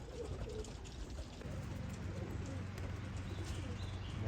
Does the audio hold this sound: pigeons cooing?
yes